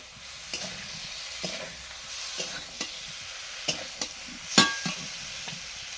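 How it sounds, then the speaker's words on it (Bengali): Elephant foot yam pieces are stirred with spices in a pan, a soft steady sizzle broken by spaced scrapes and clacks of the spatula, one louder knock standing out near the end. "করা ওলগুলো দিয়ে মশলার সঙ্গে নেড়ে চেড়ে লবণ দিলাম"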